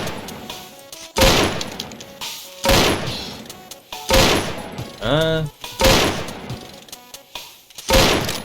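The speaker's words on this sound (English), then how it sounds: "This is how fast the gun fires at its max rate." Gunslinger gun in the Defend the Train video game firing at its maximum rate: loud, evenly spaced shots roughly every second and a half, each with a booming tail, plus one brief whooshing effect between them.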